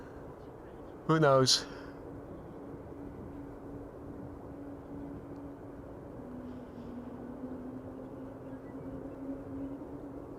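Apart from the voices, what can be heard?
airplane engines whining at Amsterdam Schiphol Airport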